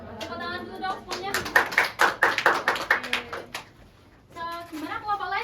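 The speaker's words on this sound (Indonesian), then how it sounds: "Tepuk tangan dulu dong semuanya" A classroom of students gives a round of applause during a micro-teaching practice session: a quick run of sharp, close claps builds and fades after a few seconds, followed by a pause and then talking.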